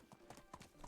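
Horse hooves trot along a dirt road in Medieval Dynasty, giving a quick, even clip-clop of several hoof strikes in under a second, fairly close and moderately loud.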